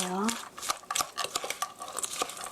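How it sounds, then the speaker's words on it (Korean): A spoon stirring mushroom pancake batter in a bowl, giving a steady run of wet scraping and light clinks against the bowl, close and clear, with a brief voice at the start. "자, 이제 고루 섞어주세요"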